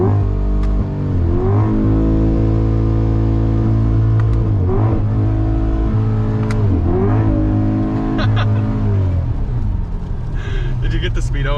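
A 2020 Chevrolet Corvette accelerates hard in third gear, its engine note climbing and falling through repeated loud revving sweeps from inside the cabin, with some talk faintly mixed in.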